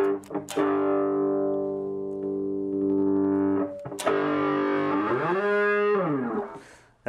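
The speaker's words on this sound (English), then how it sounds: "we can reduce the amount of distortion" A JavaScript-generated distortion effect on a sustained, buzzing harmonic tone, loud and continuous, with a couple of sharp attacks, a pitch swoop downward and back up near the end, then fading out; no voices.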